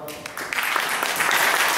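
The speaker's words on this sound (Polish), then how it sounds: "Aleksandrze Hinz, jeszcze raz gorące brawa" Warm audience applause at a gala concert of a national foreign-language song festival, honouring a young singer; dense clapping grows fuller and louder across the short stretch.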